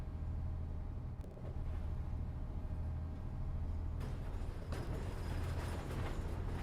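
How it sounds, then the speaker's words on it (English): Volvo 7700 bus engine in OMSI 2 on a Budapest Óbuda route: a steady low rumbling drone that holds at an even level throughout, with faint road and rolling noise on top. "Sounds of this bus aren't great either."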